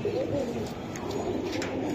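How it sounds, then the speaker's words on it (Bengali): Racing pigeons cooing close by in a loft, a steady low murmuring coo running throughout with faint background noise. "এই যে আরেকটা কবুতর দেখাই"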